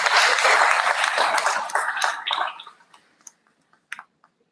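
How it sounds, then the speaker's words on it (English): Conference audience applauding loudly at a leadership conclave in Lucknow, dense clapping that gradually thins out into a few scattered claps before fading to silence. "please give a loud applause to Swati."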